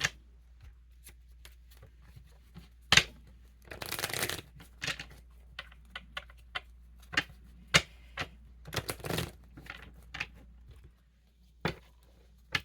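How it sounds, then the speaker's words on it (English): Tarot cards being shuffled and pulled from a deck, heard as soft riffling bursts and a string of crisp separate card snaps and flicks, close up and fairly quiet, with no talking. "I'll keep pulling cards."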